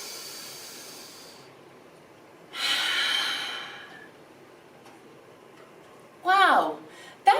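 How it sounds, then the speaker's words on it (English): Deep breathing in and out during a calm, guided children's relaxation exercise: a long soft exhale, then a louder drawn breath, then a sharp quick gust, all close to the microphone with no talking over them. "Breathe in. Breathe out."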